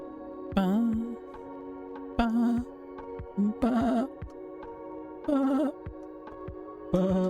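Sheep bleat in a video game, with about five clear, separate bleats spaced a second or so apart, each a short wavering cry over a steady faint background tone.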